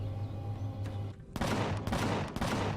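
Turret gunfire in the space survival game Empyrion Galactic Survival, a faint droning hum first, then a sudden loud burst of rapid repeated shots that keeps firing steadily to the end.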